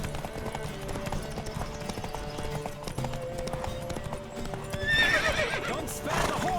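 Rhythmic hoofbeats of a galloping horse in a race in The Witcher 3: Wild Hunt video game, with a neigh near the end, steady and loud over a busy background.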